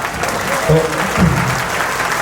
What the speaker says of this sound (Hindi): किशन चाचा का खाली नाम लेंगे तो लोग ताली बजाने लगते हैं।